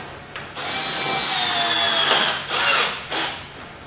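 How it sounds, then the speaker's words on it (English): A power drill drives screws into a railing, a close whirring burst that runs steadily then breaks into a couple of short pulses near the end, with no talk. "Getting all the screws in"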